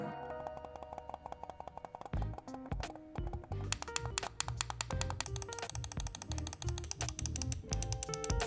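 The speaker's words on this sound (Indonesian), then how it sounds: "yang klik kiri dan kanannya udah pakai switch yang silent dan ringan ditekan" Soft clicks from the silent, light left and right switches of a Rexus QB300 wireless office mouse, a quick irregular run of muted taps close up, quiet and alone.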